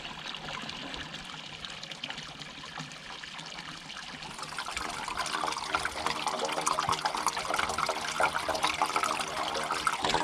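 Water trickles and flows steadily through a pipe in a flooded rice field in Japan, a continuous wet rushing that grows louder partway through, with no talking.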